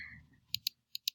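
Quiet computer keyboard typing: four crisp, separate key clicks in two quick pairs, heard close after a faint low murmur.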